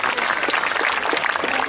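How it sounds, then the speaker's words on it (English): Audience applause at an outdoor falconry display at a steam fair, a short burst of dense, steady clapping from a nearby crowd with no talk over it. "Give him a nice round of applause."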